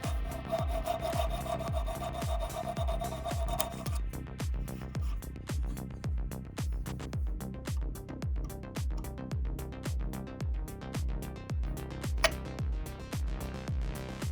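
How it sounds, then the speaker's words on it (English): Coarse sandpaper rubbed back and forth over rough slots in a DIY open-frame PC case, a steady rasping rhythm of about two strokes per second, close and continuous, with no voices. "The holes are rough and too narrow for the graphics card tabs to fit. Some coarse sandpaper will open them up."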